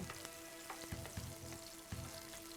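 Onions and yellow and orange peppers frying in a pan, a steady close sizzle with a few soft stirring knocks, faint and without talk.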